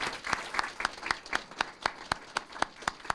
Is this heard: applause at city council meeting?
yes